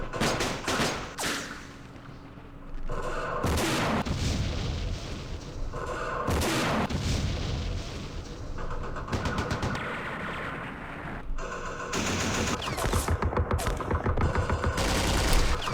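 Sniper and other gunfire crackles through a battle in the war strategy game Operation Starlite, with repeated sharp bursts and booming shots spread across a dense, loud combat din, no talking.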